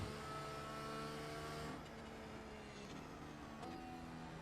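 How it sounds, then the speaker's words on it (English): A race car engine in iRacing, a steady droning hum with harmonic whine, slightly dropping in pitch as it shifts, moderately loud and continuous with no talk. "the sounds from the car are actually pretty impressive"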